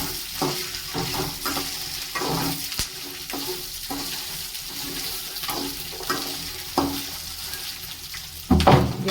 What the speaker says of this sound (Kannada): ಇವಾಗ ಬಿಡಿಸ್ಕೊಂಡಿರೋ ಬೆಳ್ಳುಳ್ಳಿ, ಒಣಮೆಣಸಿನ್ಕಾಯಿ ಹಾಕ್ಕೊಂಡು ಚೆನ್ನಾಗಿ ಹುರ್ಕೋಬೇಕು.